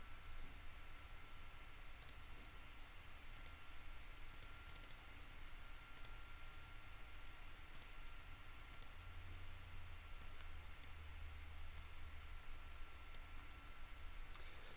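Sharp, faint computer mouse clicks come in scattered pairs and singles over a steady low hiss, with no voices.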